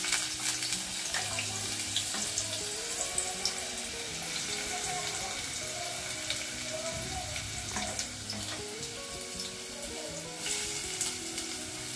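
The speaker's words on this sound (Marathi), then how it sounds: "आणि आता हा कांदा आपल्याला व्यवस्थितपणे शिजवून घ्यायचंय." Plenty of chopped onion frying in a pan, a soft continuous sizzle with scattered crackles and occasional scraping and clinking, fairly quiet throughout.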